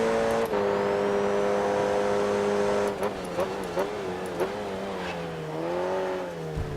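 Open-wheel race car engine in the Grid Autosport racing game, a steady high-revving drone with falling and rising pitch as the car brakes and accelerates through turns, with sharp gear-change blips partway through.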